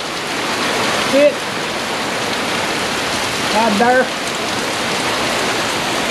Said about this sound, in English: we're getting a torrential downpour right now